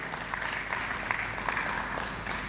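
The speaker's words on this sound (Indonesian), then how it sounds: "Boleh kita berikan tepuk tangan yang meriah sekali lagi Bapak dan Ibu" An audience at an awards evening applauds, a dense, even wash of many hands clapping together at moderate volume, steady throughout with faint voices beneath.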